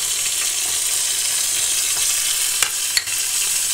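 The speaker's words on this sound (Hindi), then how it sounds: "लहसुन के बाद जितने भी मसाला हैं ये हम ऐड कर देंगे" Spices frying with garlic in a pan for moong dal make a steady, close sizzle, a continuous crackling hiss with a couple of sharp pops near the end.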